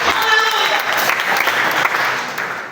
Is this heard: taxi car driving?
no